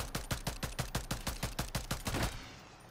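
A rapid burst of about fourteen evenly spaced gunshots in Call of Duty, sharp and close, ending in a brief final clatter before the firing stops, with no talk.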